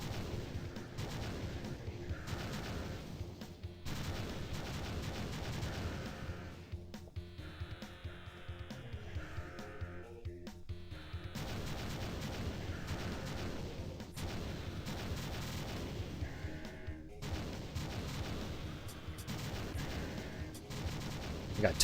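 Laser and missile fire in an Atari Jaguar video game, a dense, continuous barrage of rapid electronic shots and blasts with brief gaps, steady and loud, with faint talk at times.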